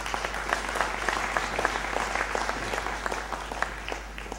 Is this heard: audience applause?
yes